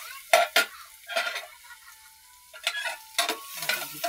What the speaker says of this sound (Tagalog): Pag kami nagluluto, nigisa po namin yan.